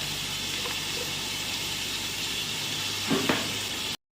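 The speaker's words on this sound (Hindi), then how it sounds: "देखिए हमारा चिकन भी इसी में गल जाएगा और हमारे मसाले भी भून जाएंगे।" Chicken and spices frying together in a pan over a low flame for chicken macaroni, giving a steady close sizzle with a couple of quick stirring scrapes near the end.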